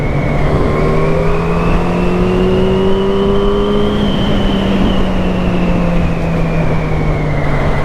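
A Yamaha FZ8 inline-four motorcycle engine drones steadily and loud throughout while riding, its pitch rising and then easing slightly, with wind noise and no talking.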